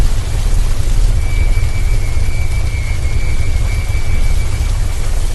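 Heavy rain pours down steadily and loudly with a low rumble of thunder beneath it, a continuous dense wash of sound with no voices.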